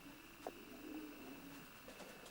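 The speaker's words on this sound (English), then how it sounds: "I must say the pigeons look very comfortable" Soft, low coos of racing pigeons in a straw-littered loft murmur faintly over a steady background hum, with a brief click near the start.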